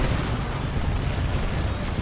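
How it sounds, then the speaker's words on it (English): Singularity ability explosions in Dawn of War 2, a dense rumbling wash of booming blasts that fills the whole span at steady loudness, with no talk. "Double singularities going in."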